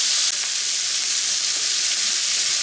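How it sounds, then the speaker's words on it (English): Beer poured into a hot pan of browned butter hisses in a loud, steady, unbroken sizzle close to the listener, with no voices over it. "And now I'm going to add the beer. And the beer is going to deglaze this."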